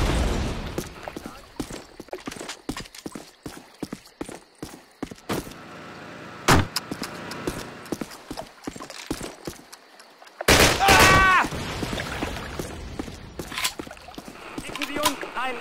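Gunfire from an MG 42 machine gun in the classic Call of Duty game, with bursts and scattered sharp shots of battle against quieter background noise, along with voices.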